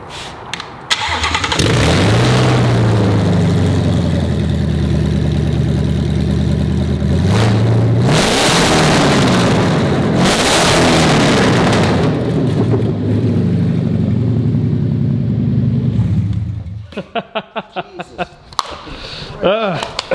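A single-rotor Mazda rotary engine cranks, catches and roars to life, revving up and down loudly before settling and sputtering into a choppy idle.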